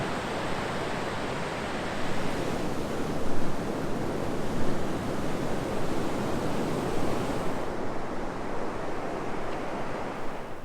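Ocean waves wash onto a beach at Cape Conran in winter, a loud continuous roar of surf with gentle swells rising and falling, mixed with some wind.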